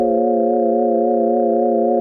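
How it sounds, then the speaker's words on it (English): A steady synthesizer chord of pure sine tones sustains throughout, with a gentle wobbling vibrato in pitch. "I've got the sine wave in there, but I've got a decent amount of modulation on the pitch here too."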